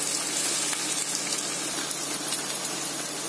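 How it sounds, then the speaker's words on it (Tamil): Onions sizzle in hot oil as they brown, a dense, steady frying hiss that stays loud and unbroken throughout with no voices over it. "இதை இந்த ஆயில்ல போடணும். இப்போ கொஞ்சம் ப்ரௌன் ஆகணும் வெங்காயம்."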